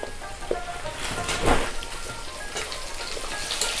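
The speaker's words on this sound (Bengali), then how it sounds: "এর সাথে ডাঁটাগুলো আমি ভেজে নেব।" Malabar spinach stalks frying in a little oil in a village kitchen, a faint steady crackling sizzle with scattered pops, heard alone without talk.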